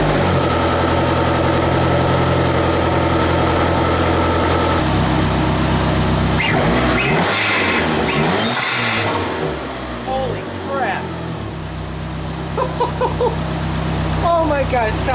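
A PT Cruiser GT engine with a K&N Typhoon intake idles with a deep rumble, then revs hard several times through the resonant intake pipe, roaring and echoing, with excited voices reacting near the end.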